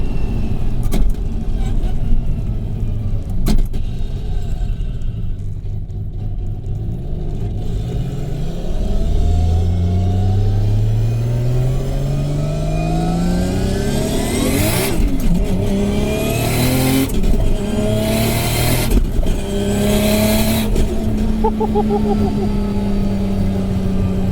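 750HP Nissan R32 Skyline GT-R with straight pipes and a sequential gearbox, heard from inside as the engine revs up through rising pulls and sharp shifts, the turbo spooling loudly. People talk over it.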